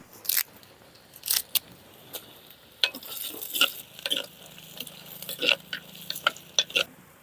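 Ginger and garlic sizzle as they are stirred in a hot pan, with scattered sharp crackles and scrapes over a steady frying hiss, close and moderately loud, no talking.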